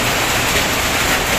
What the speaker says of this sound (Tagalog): tingnan nyo, ang lakas ng ulan